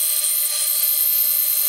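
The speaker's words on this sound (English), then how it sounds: "I'm gonna use a bandsaw to cut this out" A bandsaw cutting a wooden bench leg makes a steady, high whining hum close by with no pauses or speech.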